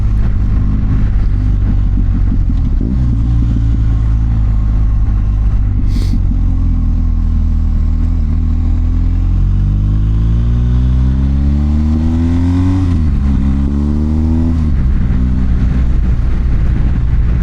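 A BMW R1250GS motorcycle rides through winter conditions, its engine a loud, close, steady drone that climbs in pitch through rising revs and gear changes before settling, with no voices.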